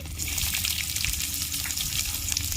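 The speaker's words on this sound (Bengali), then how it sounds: "তেল গরম হয়ে গেছে আমি রসুন দিয়ে দিচ্ছি তেলের মধ্যে পেঁয়াজ কুচি" Garlic and chopped onion hitting hot oil in a pan, a loud, dense, steady sizzle and crackle sustained throughout, close up with no talking.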